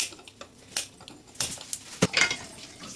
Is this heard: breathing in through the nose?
no